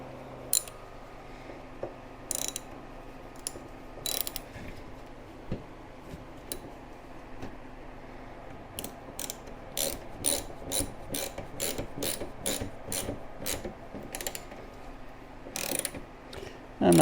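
A hand ratchet tightening radiator bolts on a C3 Corvette, sets of quick clicking pawl strokes with pauses between, then a long steady run of rhythmic clicks, close with no talk.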